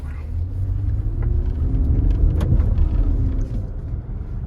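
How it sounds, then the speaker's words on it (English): A Toyota Highlander or Nissan Pathfinder SUV engine pulls steadily on a test drive, a loud, continuous low rumble with road noise that swells slightly mid-run and holds for several seconds. "I want you to hear the engine"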